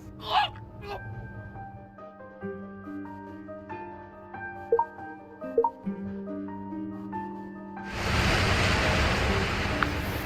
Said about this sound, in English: The figure's on the verge of being engulfed by the surging waves.